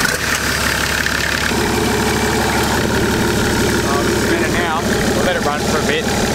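A Nissan Patrol TD42 turbo diesel engine idles in neutral, its oil feed fitting leaking, with a steady, even low rumble that stays constant and close throughout.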